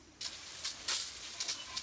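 Several short hissing bursts of cleaner from a spray bottle onto parts, close and fairly loud, spaced irregularly over a couple of seconds.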